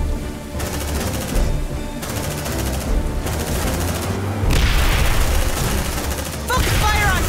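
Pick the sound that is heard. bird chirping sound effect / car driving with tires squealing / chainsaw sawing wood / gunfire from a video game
gunfire from a video game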